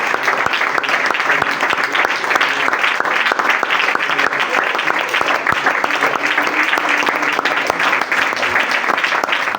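A church congregation claps loudly for Jesus during a Spanish-language worship service, dense and vigorous applause with sharp individual claps standing out, sustained without pause.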